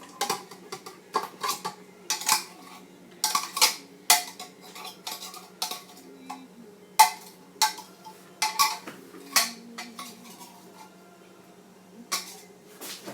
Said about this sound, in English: I'm just going to take a fork and give it a quick stir